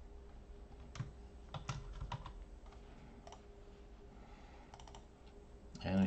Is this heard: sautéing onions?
no